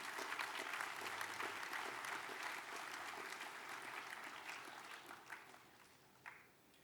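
An audience at an RMIT University degree conferment ceremony applauds graduates just presented, broad sustained clapping that gradually thins and fades toward the end, with a few louder individual claps near the close.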